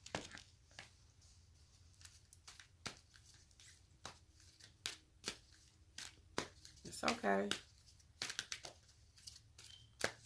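Deck of cards shuffled by hand, a series of quick flicking snaps and papery riffles spread irregularly, close and fairly quiet, with a brief spoken voice among them.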